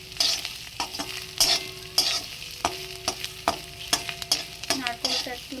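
Oil-fried ingredients for a vegetarian taro leaf curry are stirred in a pan, with repeated sharp scraping strokes at an uneven rhythm over a light sizzle, close up and without speech.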